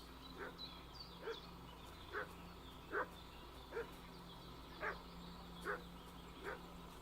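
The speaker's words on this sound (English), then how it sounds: "What's that dog making such a fuss about?" A dog in the medieval video game Kingdom Come: Deliverance gives a series of short, faint barks at an even pace, heard at a distance over a low ambient hum.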